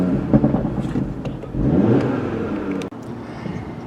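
A 2018 Audi TT-RS turbo engine revs up hard in Sport exhaust mode, a loud close rasping surge that swells, holds, then cuts off sharply before settling into a lower steady drone.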